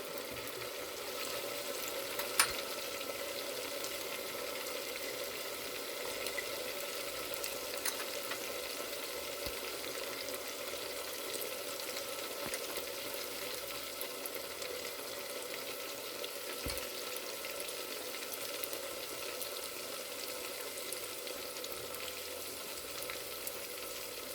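Whole dry spices and slit green chillies sizzle steadily in hot oil for mutton korma, a close, continuous crackling fry with occasional stirring clinks and no talk.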